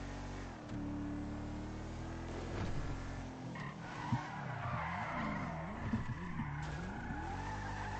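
A heavy armored car drives and skids, its engine roaring steadily while tires squeal in repeated wavering sweeps over about eight seconds, with no voices.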